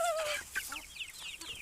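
Chickens, including home-hatched chicks and a few bought-in hens, give a quick run of short clucks and chirps, close and moderately loud with no talking over them.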